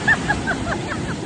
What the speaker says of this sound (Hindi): एक तरफ सूरज की किरणें और दूसरी तरफ समुद्र की लहरों के साथ खेलते मस्ती करके कब वक्त निकल गया पता ही नहीं चला।